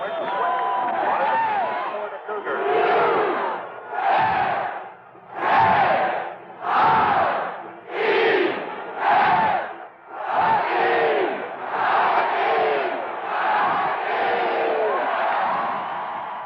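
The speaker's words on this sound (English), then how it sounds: "he and former band director Bill Bissell originated the round the stadium cheer seen everywhere" A huge stadium crowd at the University of Washington roars through the wave, the cheering swelling and fading in about ten rhythmic surges as it passes around the stands, loud and continuous.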